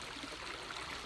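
Mountain stream water along an Appalachian Trail section flows in a steady, broadband rush, quiet and continuous with no breaks.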